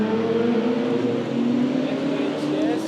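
Sports cars such as GT3 and GT4 RS Porsches and modified BMWs drive past at the Nürburgring Nordschleife, a loud, close, sustained engine drone with pitch gently rising and falling as they go by.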